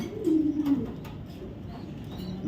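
Racer pigeon cooing close by, a low throaty coo swelling briefly then fading into a softer, continuing murmur.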